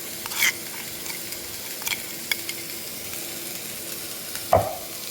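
Something frying in hot oil in a home kitchen pan, cooked until browned: a steady low sizzle with a few light spoon scrapes and one sharper clack near the end, no voices.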